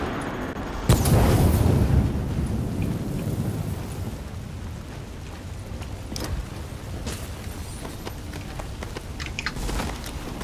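A grenade blast in The Division, a sudden loud low boom followed by a long rumbling, crackling decay with scattered sharp debris-like cracks.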